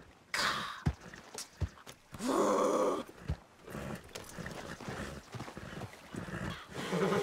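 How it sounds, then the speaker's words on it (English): A horse in Red Dead Redemption 2 acts up, snorting and whinnying with a couple of sharp hoof thuds and a long loud breathy burst, all close and prominent with no talk. "Damn horse acting up on me, of all the times."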